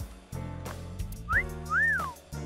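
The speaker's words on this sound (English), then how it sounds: "I thought I told you to stop with the wolf whistles." A two-note rising-then-falling wolf whistle sounds from a character in the video game AI: The Somnium Files, short and clear over a soft musical backdrop.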